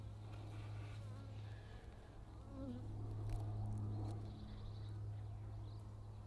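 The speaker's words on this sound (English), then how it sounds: "There are a lot of bees in there." Honeybees of a strong, calm colony in an open hive hum steadily at close range, a dense continuous drone that swells slightly midway, with no talk over it.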